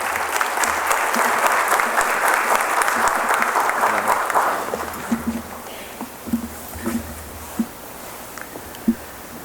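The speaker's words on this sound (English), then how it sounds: "And please give him a round of applause." An audience greets Dr. Fazal Ali with a dense, steady round of applause that lasts about five seconds. It then thins to a few isolated, sharp claps.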